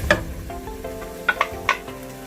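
Champignon mushrooms sizzling in a pan over lowered heat for mushroom soup, a steady moderate fry with a few sharp utensil clinks and stirring taps.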